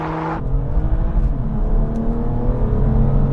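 Cars launch off the line in a drag race, including an Audi RS3, with a loud engine roar that starts as a sharp rev and settles into a steady, droning acceleration.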